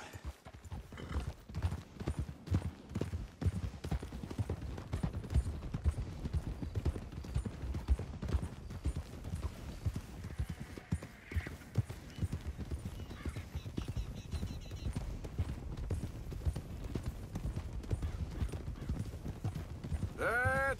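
Horses clip-clopping in Red Dead Redemption 2, a quick steady rhythm of hooves on hard ground running throughout, moderately close, with a brief high whinny near the end and faint voices at times.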